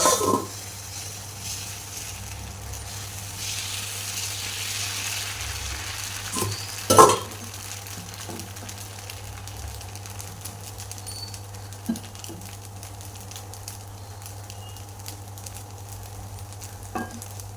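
Onion dosa batter sizzles steadily on a hot pan, a soft continuous frying hiss with a low hum beneath and a few faint clinks and scrapes, no talking.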